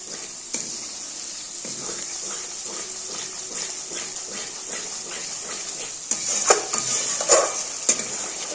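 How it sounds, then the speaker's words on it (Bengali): Sour curd stirred into a pan of chicken chaap masala over lowered gas, a soft continuous sizzle with repeated scraping spoon strokes, growing brighter and louder toward the end. "এর মধ্যে আমি গ্যাসটা কমিয়ে দিয়ে পরিমাণ মতো টক দই দিয়ে দেবো"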